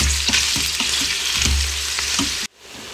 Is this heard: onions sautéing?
yes